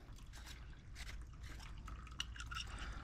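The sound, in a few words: water draining from a hot water heater drain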